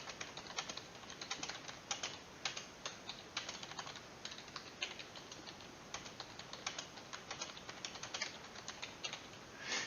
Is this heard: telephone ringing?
no